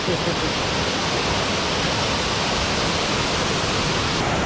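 Tad Ya waterfall pouring steadily, a dense, loud, continuous rush of falling water heard up close with no break.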